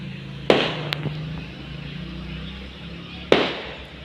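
Firecrackers and rockets going off outdoors: two sharp, loud bangs about three seconds apart, each trailing into a brief crackling decay, with a smaller pop soon after the first, over a low background hum.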